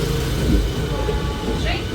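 A local train bound for Serampore rolls by close at hand, a continuous loud rumble and rattle of carriages, with voices talking over it.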